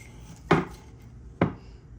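Two sharp knife chops on a cutting board while peppers are sliced for baked beans in a home kitchen, spaced about a second apart and heard close and alone.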